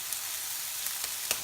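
Garlic, shallots and onions sizzling in olive oil in a pan, a bright steady hiss with a few sharper crackles and spatters, heard up close.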